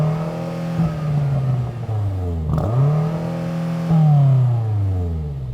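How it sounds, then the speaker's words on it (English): A BMW M8 Competition's engine revs repeatedly in short blips, rising and falling in pitch with a sharp snap near the middle and another climb toward the end, loud and close with no talking. "Let's have some revs."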